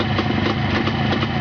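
A unique old engine idles with a steady, low, throbbing rumble, loud and close, with no talk over it.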